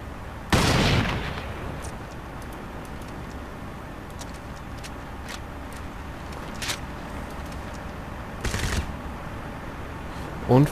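Gunfire in the video game Crysis comes as two sharp, loud bursts several seconds apart, with faint clicks and low game ambience in between.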